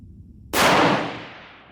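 A single sharp rifle report from a 6 Dasher with a new barrel, fired outdoors in snow, hitting hard and then trailing off in a long fading echo.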